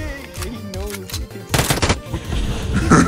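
Rapid automatic gunfire in the mobile shooter PUBG Mobile, bursts crackling loudly through the second half after a stretch of voices talking over game noise.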